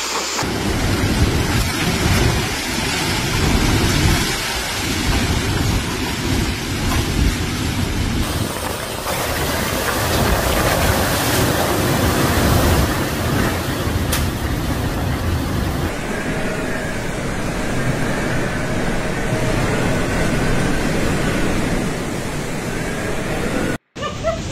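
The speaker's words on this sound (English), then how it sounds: "a dangerous Category 5 storm is starting to hit and will cause massive damage" Hurricane Otis, a Category 5 storm with winds of 315 km/h, roars through Acapulco, Guerrero, Mexico, as a loud, dense, continuous wash of wind and heavy rain with rumbling gusts, abruptly cut near the end.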